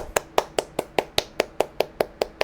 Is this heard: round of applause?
yes